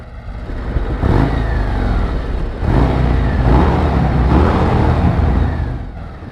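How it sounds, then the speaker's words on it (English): A 2024 Harley-Davidson Road Glide on stock exhaust pipes rumbles loud and close, its V-twin engine swelling through several throttle rolls and dips, with no voices over it. "Even stock pipes sound good on the 24 Road Glide."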